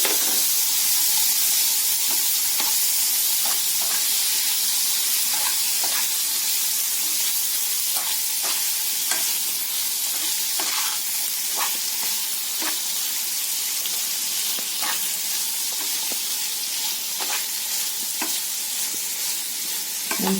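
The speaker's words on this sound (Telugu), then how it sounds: "ఈ పాలక్ నేను కొంచెం బటర్లోనే వేసి కొంచెం ఫ్రై చేసుకుని తీసుకుంటాను." Spinach frying in butter in a pan, a steady bright sizzle with light intermittent stirring clicks, close and continuous throughout.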